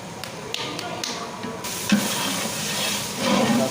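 Cauliflower and tomato frying in oil in a pan, a steady sizzling hiss broken by spoon taps and stirring scrapes, with a few brief faint voices.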